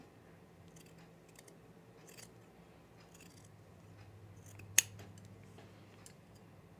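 Scissors trimming fabric for a refashioned garment: a few faint soft snips, then one sharp close cut standing out over a quiet room hum, with no talk.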